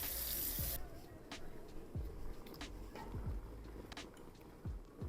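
A utensil is rinsed under a running kitchen tap, a brief rush of water at the start followed by faint splashes and small clinks.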